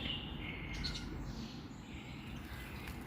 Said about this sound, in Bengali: বাহিরে আসার পর কিচির মিচির পাখির ডাক শুনতেছি